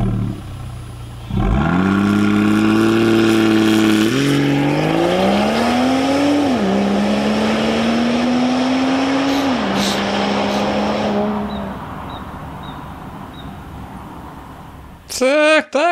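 A Volvo V60 T6 engine in Forza Horizon 4 revs loudly and climbs through several gear shifts, its droning note stepping up in pitch before easing off and fading near the end.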